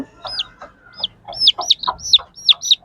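Newly hatched native country-breed chicks peep in a run of high, rising chirps close by, mixed with the lower, softer clucks of a hen.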